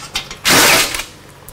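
Lathe gears clatter as the machine is shifted through its speeds: a brief loud mechanical ratcheting burst of metal-on-metal gear noise, with quieter clicks before and after and no talking.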